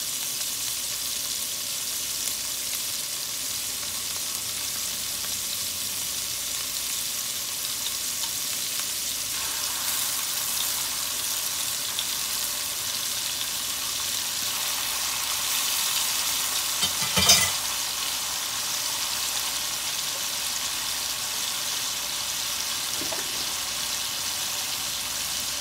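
Minced garlic sizzles in a hot pan for rice with vegetables, a steady, close frying hiss that keeps going with one brief stir or clatter partway through.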